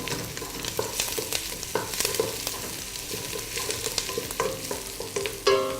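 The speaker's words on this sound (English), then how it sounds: "I can feel the oregano frying a little bit." Oregano sizzling in a hot pan with garlic while being stirred, a steady close frying crackle broken by scraping stir strokes and a louder clatter near the end.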